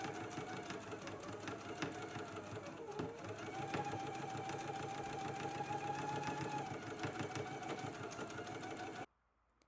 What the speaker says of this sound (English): let's stitch it now